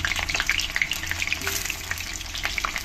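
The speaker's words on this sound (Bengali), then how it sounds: "আলুগুলোকে একটু ফ্রাই করে নেব" Cut potatoes fry in hot oil, a dense, close crackling sizzle with many small pops, steady throughout and without speech.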